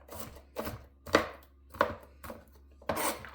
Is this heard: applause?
no